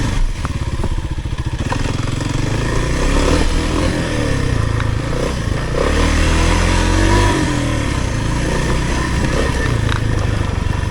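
Kawasaki KLX300R dirt bike engine pulling steadily over rough terrain, a close, continuous motorcycle drone that rises and falls with throttle, with clattering from the bike and trail throughout.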